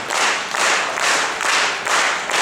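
Audience applause at a traditional folk band festival, a steady wash of many hands clapping in swelling waves, loud and close, with no voices over it.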